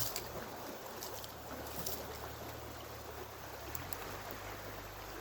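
Gravel and water from the Salcha River are poured into a sieve set over a mess-kit collection pot, giving a continuous soft rushing trickle with faint scattered rattles, quiet and close.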